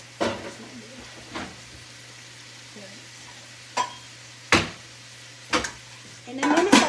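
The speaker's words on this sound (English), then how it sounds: "Let me put a little lid to make things a little faster for you." A lid is set onto a pan of pasta with broccolini and tomatoes, giving a few sharp metallic clanks spaced over several seconds against a faint background sizzle, ending in a louder clattering burst.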